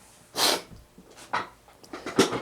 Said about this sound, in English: Oh, here comes a sneeze.